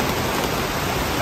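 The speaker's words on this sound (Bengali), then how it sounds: "বৃষ্টি এসে গেছে" Steady rain pours down after a hot day, giving a dense, even hiss of drops on surfaces that stays loud throughout, with no voices.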